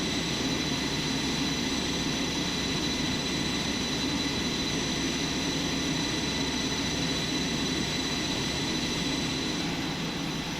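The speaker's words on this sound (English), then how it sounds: "Tell the crew chief to activate external airflow to the engine." External air flows into an F-4E jet engine at startup in DCS, a steady, even rushing roar with a faint high whine, constant and unbroken for the whole stretch with no talk.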